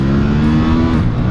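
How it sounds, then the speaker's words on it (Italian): A 2017 Ducati Monster 1200 S motorcycle engine pulls hard in a steady, loud, close-up roar that holds its pitch through a short burst, with no voices over it. "Voglio farvi sentire la progressione di questo motore stupendo"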